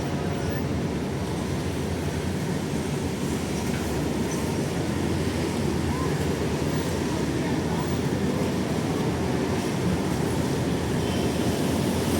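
A light rail train rumbles past in a steady, loud, broadband roar with faint rattling, sustained for the whole stretch without any pause.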